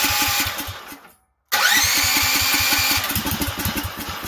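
DuroMax 440cc generator engine on electric start at full choke: a starter cranks with rhythmic chugging, cuts out briefly, then resumes a steady loud chugging run.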